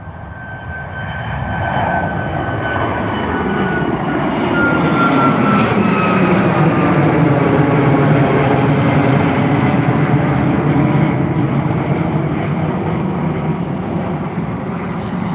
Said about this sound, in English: taking off right now, we have the Ryanair 737 MAX 8 heading over to Milan Malpensa